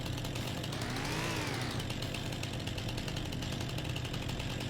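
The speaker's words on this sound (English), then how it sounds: "pull out the handy dandy chainsaw and let's get to chopping" A chainsaw in Farming Simulator 25 cuts through trees with a loud, continuous buzzing roar, its pitch rising and falling briefly as it bites into the wood, heard close and unbroken throughout.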